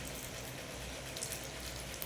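Malpoa batter frying in hot oil, a steady fine sizzle and bubbling crackle, soft and even with a few faint pops, heard alone.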